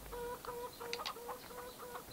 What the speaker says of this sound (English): So here's my chickens.